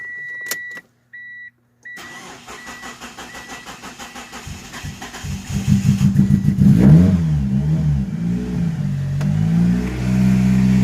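A 1992 Plymouth Laser with newly replaced fuel injectors cranks after a quiet start with a few faint beeps, then catches and builds into a loud, steady running engine with rising revs, close by.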